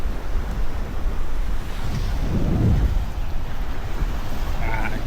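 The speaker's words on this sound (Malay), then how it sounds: "Tengok laut dia." Sea waves wash onto a beach at Pantai Pasir Lanun in Mersing, Johor, a loud, continuous rush of surf with heavy wind buffeting the microphone and one swelling wave breaking midway.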